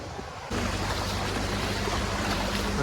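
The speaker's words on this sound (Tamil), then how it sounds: "எவ்வளோ தண்ணி ஓடுது பாருங்க" Floodwater flows after heavy rain near a temple, making a steady, loud wash of rushing water that cuts in sharply after a brief quieter moment and continues unbroken.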